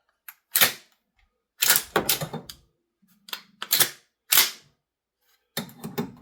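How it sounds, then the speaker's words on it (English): Marlin 120 shotgun ejecting a shell after its forend plate is pressed: several sharp mechanical clacks and clicks, near and fairly loud, in separate bursts with short pauses between. "press this plate and it'll eject like that"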